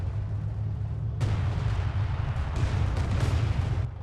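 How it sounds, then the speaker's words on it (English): Artillery barrage in the World War II strategy game Company of Heroes 2 thunders as a continuous heavy rumble of booms and blasts, growing denser and louder partway through, with no voices over it. "The relentless barrage continues from the artillery though."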